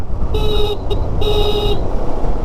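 A loud car horn blares twice, a long honk followed by a short break and another long honk, over rumbling traffic noise.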